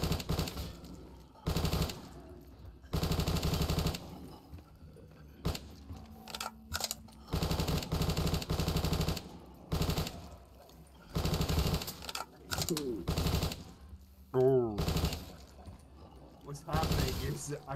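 Peacekeeper gun firing in Call of Duty, heard as repeated rapid automatic bursts with short gaps between them, close and punchy, with brief clinking and mechanical sounds and some quieter stretches between volleys.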